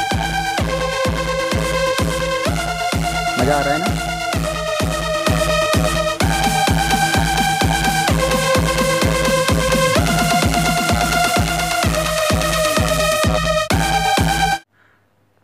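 Electronic dance beat from the Buttonbass EDM Cube phone app, a steady four-on-the-floor kick with repeating synth loops that switch patterns every few seconds, playing loud and even before stopping abruptly near the end, with a brief spoken comment.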